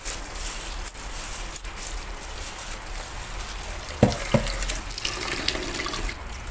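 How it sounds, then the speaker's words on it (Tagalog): Glutinous rice being washed in water in a kitchen, a steady running-water wash with a couple of brief splashes and clinks near the middle. "Ayan, 2 beses ko hugasan yung malagkit."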